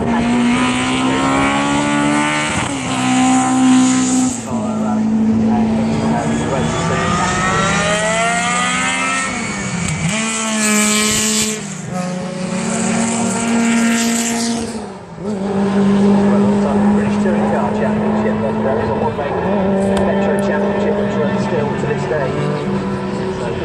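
Rally cars driving at a car festival, with engines revving and shifting loudly up and down close by as several cars pass in turn, a commentator talking over the noise throughout.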